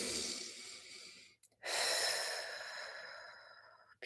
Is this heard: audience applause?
no